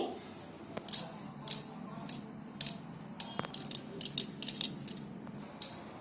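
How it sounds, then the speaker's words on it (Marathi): Ragi flour is sifted through a sieve, giving quiet, irregular metallic clicks and taps, a few at first and then a closer cluster, over a soft background. "आता हे पीठ आहे ना चाळणीने थोडंसं चाळून घेते"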